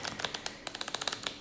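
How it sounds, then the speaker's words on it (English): Playing cards being shuffled by hand in a quick run of crisp, riffling clicks, close and fairly soft, with no talking over it. "let me just shuffle again"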